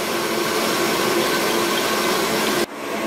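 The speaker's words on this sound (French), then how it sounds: "la meringue a commencé à bien monter, donc j'ai augmenté la vitesse du batteur" An electric mixer whisking egg whites for Italian meringue at increased speed, a loud steady motor whir with a dense hiss that runs continuously, then cuts off abruptly near the end.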